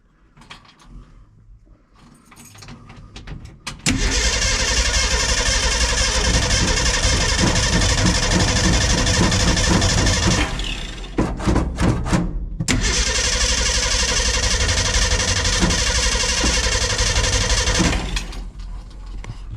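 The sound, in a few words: 1956 Ford Econoline engine starting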